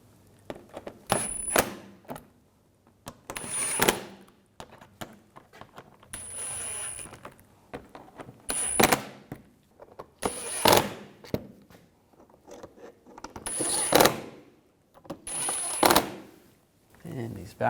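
A ratchet tightens starter bolts on a 2011-2018 Volkswagen Jetta, with bursts of quick clicking and metallic rattles coming in short spells separated by pauses, close and fairly quiet.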